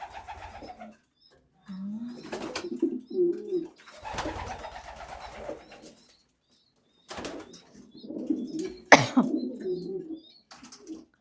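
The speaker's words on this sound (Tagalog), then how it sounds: "Mommy is feeding the babies pigeon." Pigeons coo and flutter in bursts as a parent feeds its chicks, with soft throaty calls, wing flaps and rustling, close and moderately loud, separated by short quiet gaps.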